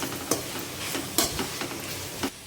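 Mint and coriander being stirred into tomatoes cooking for paneer pulao, a brief sizzle with three or four sharp scrapes of the spoon at a steady pace.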